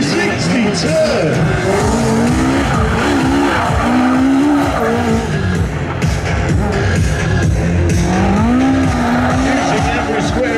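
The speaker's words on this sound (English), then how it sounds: "It is powered by a Yamaha 1200cc motorcycle engine. Five forward gears. There is no reverse. Wow! Straight into the 360 turn." A race car powered by a Yamaha 1200cc motorcycle engine screams and skids through a 360-degree turn in a live action arena, with loud continuous tire squeal and a rising, falling engine note that stay close throughout.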